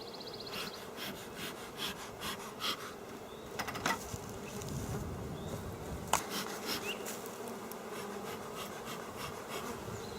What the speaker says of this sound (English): This one looks like it's got some good bee traffic in the front